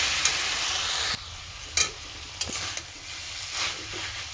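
Potatoes frying and cabbage ghonto cooking in pans in a home kitchen, with close, loud sizzling broken by several sharp scrapes and knocks of a spoon stirring; no talking.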